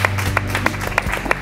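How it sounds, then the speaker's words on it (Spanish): Rhythmic group clapping from a comedy show audience, a steady beat of loud, crisp claps about three per second over a murmuring crowd. "¡Ale! ¡Un aplauso!"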